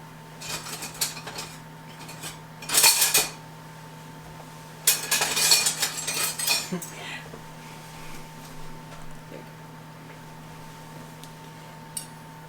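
A fork scraping and clinking on a plate of hot, fresh-from-the-oven chicken cordon bleu, in a few short bursts of cutlery noise, close by, with people talking around it.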